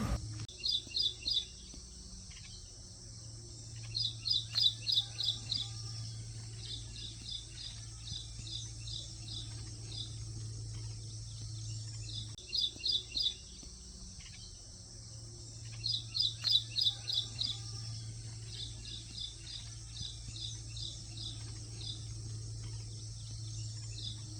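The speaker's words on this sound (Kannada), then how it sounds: "ಪಕ್ಷಿಗಳು ಚಿಲಿಪಿಲಿನ ಸಖತ್ತಾಗಿದೆ ಕೇಳೋಕ್ಕೆ" Bursts of high, rapid bird chirping repeat every few seconds over a steady low hum, in a quiet farm setting outside Bengaluru.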